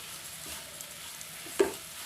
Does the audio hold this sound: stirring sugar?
yes